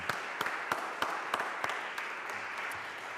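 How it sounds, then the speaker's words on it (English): At an annual parochial church meeting, the gathering applauds the tech desk team. A soft, steady wash of clapping runs throughout, with a few sharper claps standing out at a regular pulse, and there is no speech. "So a round of applause for our tech desk team"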